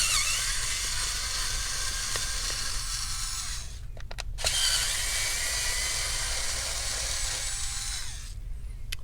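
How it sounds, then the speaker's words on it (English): An electric screwdriver backs the battery screws out of an Alienware M17 laptop, two long, close, high whining runs separated by a short pause with clicks. "So I'm removing the screws."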